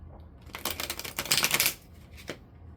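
Tarot cards being shuffled close by in a quick riffling burst that lasts about a second, then a single softer card snap, with no voices.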